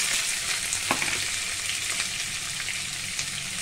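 Chopped onions sizzle steadily in hot oil with mustard seeds, cumin and urad dal, a close, continuous crackling fry with occasional stirring scrapes.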